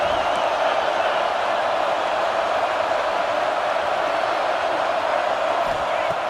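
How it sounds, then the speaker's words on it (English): A steady roar from a stadium crowd at a football game, rising as fans urge the home defense toward a red-zone stop; the dense, unbroken wash of voices holds at a constant level for several seconds with no clear words. "And here comes the noise. This crowd is trying to inspire this defense to make a big red zone stop."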